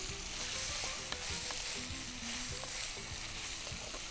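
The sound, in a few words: paneer cubes and mushrooms frying in a pan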